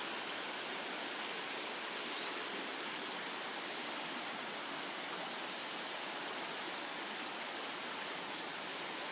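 A flooded river rushing high after heavy water, a steady broadband roar of flowing water heard close and constant with no talk.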